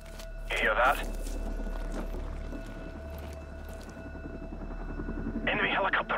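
An enemy helicopter in Call of Duty: Modern Warfare Remastered keeps up a steady low rotor drone throughout, with bursts of voice chatter over it near the start and end.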